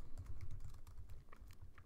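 Rapid keystrokes clatter on a computer keyboard, a quick uneven run of close, light clicks with no voices.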